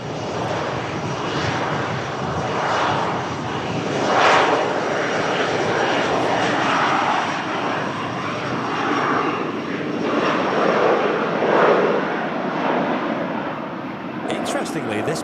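Airliner engine roar at Manchester Airport, a steady broadband jet rumble lasting throughout with swelling peaks, fairly loud, while people talk quietly over it.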